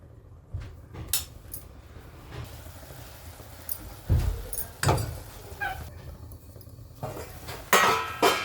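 A lid clinks and clatters onto a pan of chole masala simmering with onion, tomato and spices, giving several sharp metallic knocks spread across a quiet kitchen background.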